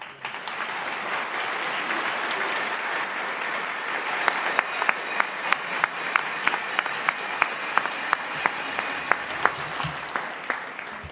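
A convocation audience applauds graduate students in sustained steady clapping, and midway a few louder, evenly spaced claps from a nearby pair of hands stand out in a regular rhythm above the crowd.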